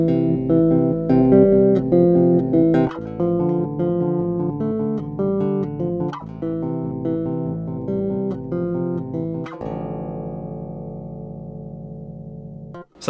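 Electric bass played through a Radial Bassbone OD preamp on its mid-boosted channel A, a run of sustained, arpeggiated notes ringing loud and alone before a final held note fades out.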